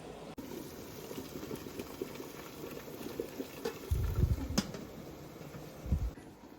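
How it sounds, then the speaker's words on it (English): Water bubbles and rumbles at a rolling boil in a large canner pot, with a few louder surges of bubbling near the end. "Once it is boiling, we're gonna let it boil for 15 minutes."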